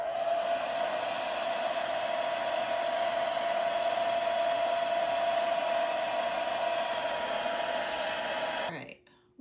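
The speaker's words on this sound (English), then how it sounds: "You can use a blow dryer to quicken up the drying process." Blow dryer used to dry special-effects wound face paint, a steady loud whooshing hum with a constant fan whine that runs unbroken for several seconds, then cuts off abruptly near the end.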